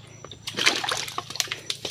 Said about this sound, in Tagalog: Yan na yung tubig.